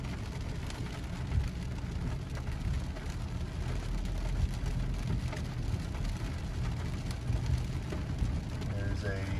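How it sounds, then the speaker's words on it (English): Heavy rain pours down on a very rainy day while driving through city streets and a visitor parking area, a dense, steady hiss that stays loud for the whole stretch over a low rumble. "Very rainy day."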